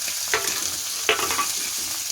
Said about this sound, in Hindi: इनको अच्छे से फ्राई कर लेंगे।